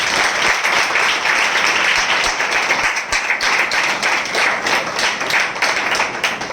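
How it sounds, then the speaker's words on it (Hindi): Loud, dense applause from a congregation at a spiritual gathering, many hands clapping vigorously and continuously close by, with no talking over it. "हम जोरदार तालियों का स्वागत करें।"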